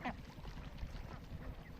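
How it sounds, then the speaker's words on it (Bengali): White ducks on a duck farm beside saltwater quack faintly in the distance, with a few scattered calls over a soft ambient background. "আমরা দেখতে পাচ্ছি হাঁসের খামার"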